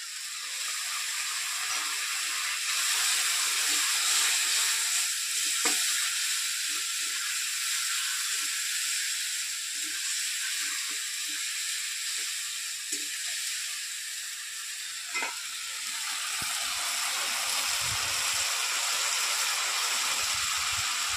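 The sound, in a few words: tomato paste sizzling in pan for chital fish kalia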